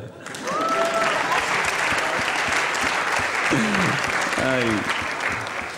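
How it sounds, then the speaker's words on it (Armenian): Sustained audience applause at a live show in Armenia, a dense steady wash of clapping from a crowd with brief musical tones and a voice cutting through partway. "եկեք իրոք ծափարենք"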